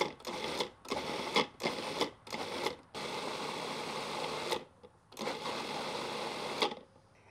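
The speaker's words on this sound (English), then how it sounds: "And just keep pulsing it or blending it." Countertop blender pulsing smoked salsa, with five short loud bursts separated by brief pauses, then a longer sustained run of the motor up close.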